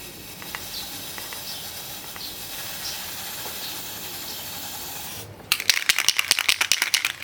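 An aerosol chain cleaner can sprays a motorcycle chain in a run of rapid, close hissing bursts near the end, after a stretch of quieter background noise.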